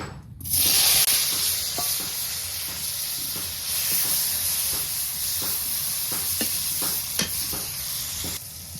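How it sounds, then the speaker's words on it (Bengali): Eggplant fries in hot oil in a wok with a steady, close sizzle and hiss, broken by repeated scraping clicks of a spatula stirring the pieces, with no talking. "বেগুন ভাজি করার জন্য কড়াইতে তেল দিয়ে"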